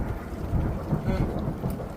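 Thunder rumbles through heavy monsoon rain after a big lightning flash, a low continuous roll over steady rain hiss, fairly close and sustained throughout.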